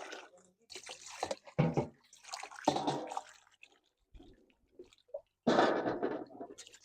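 Food being washed by hand in water in an African village kitchen: irregular bursts of sloshing and splashing come and go, separated by short quiet gaps.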